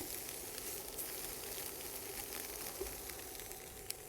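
Tofu coated in a brown sugar rub sears in a hot pan, giving a steady, soft sizzle and crackle with occasional small pops, faint and continuous without talk.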